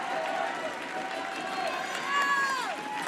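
A loud home crowd at a 2019 Louisiana state boys high school basketball game for fifth place, a sustained roar of voices and cheering filling the gym, swelling briefly near the end.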